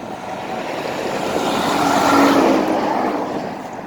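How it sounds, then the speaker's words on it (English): Loud cars roar past one after another, the noise swelling to a peak and fading again, with no voices. "A lot of loud cars going by."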